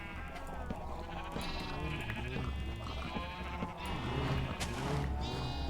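Sheep bleating in the video game Minecraft, a flock giving many overlapping, wavering bleats one after another, fairly soft and continuous throughout.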